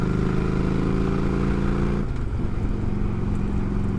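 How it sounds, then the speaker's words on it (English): A Yamaha V-Star 1100 motorcycle engine idles close by with a steady, loud, low rumble, its pitch shifting slightly partway through, and no voices over it. "obviously you can tell the bike runs great"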